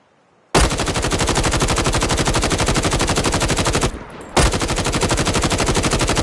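Automatic gunfire in the mobile shooter Call of Duty Mobile: loud, rapid rattling bursts, one long stream, a brief break, then more sustained firing, with no talking.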